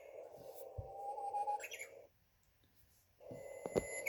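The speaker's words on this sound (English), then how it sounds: "So that's the bird sound," A digital alarm clock's bird-sound alarm plays faint, thin synthetic chirps in two bursts separated by a short silence, quiet and tinny.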